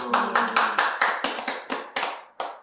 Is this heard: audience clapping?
yes